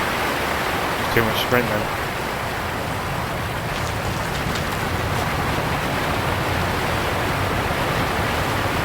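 A mountain waterfall in the Lonely Mountains: Downhill biking game rushes in a dense, continuous roar at high volume, while someone speaks briefly over it near the start.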